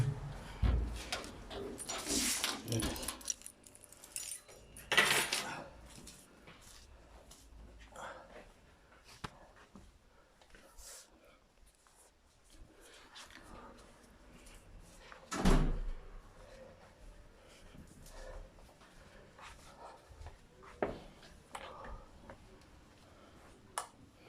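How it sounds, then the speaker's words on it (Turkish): A door is unlocked and opened, with scattered clicks, knocks and a few sharper bumps amid quiet handling noise, moderately close, with intermittent soft rustling between impacts. "Kapıyı açıyorum"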